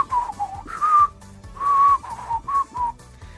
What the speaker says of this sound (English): that was intentionally bad whistling